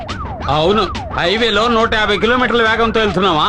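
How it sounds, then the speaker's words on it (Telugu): A wailing siren rises and falls repeatedly on a car during a road scene. It is loud and close, with a voice talking over it throughout. "ఏంటి ఆ సౌండ్? సైరన్ సౌండ్ అండి."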